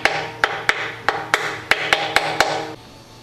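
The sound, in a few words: light tapping with a plastic hammer on an engine oil pump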